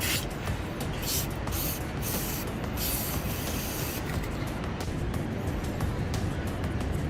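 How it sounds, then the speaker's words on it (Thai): An aerosol can sprays contact cleaner onto the door lock terminals of a Mazda BT-50 pickup, a loud, close, continuous hiss broken by brief gaps as the nozzle is pressed and released. "กดเสร็จแล้วก็ฉีดสเปรย์ลงไปในช่องนี้นะครับ"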